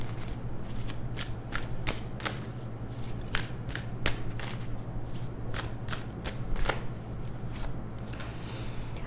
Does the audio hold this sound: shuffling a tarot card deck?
yes